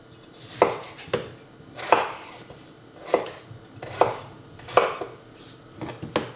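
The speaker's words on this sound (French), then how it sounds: "on va mettre les pommes de terre à cuire, donc on va les couper en morceaux" Potatoes are cut into pieces with a knife on a board, about eight firm chops in an uneven rhythm, close and clear with no speech.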